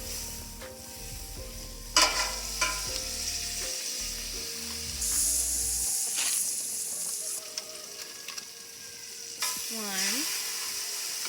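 Burger patties frying in a buttered pan at home, a continuous sizzling hiss with occasional clatter and scraping, close and moderately loud, with soft voices in the background.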